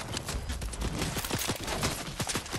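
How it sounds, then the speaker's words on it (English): Gunfire in a battle royale game, a rapid burst of sharp repeated shots crackling at mid distance in a quick irregular volley. "Yeah, they're shooting my way."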